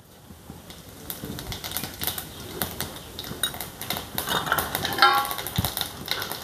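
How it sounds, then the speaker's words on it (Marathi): Cumin seeds crackle in hot oil in a pan on a gas flame, a dense run of small sharp pops and ticks that builds in intensity, fairly close with no talking. "छोटा चमचा जिरे टाकून घेऊ त्याच्यात।"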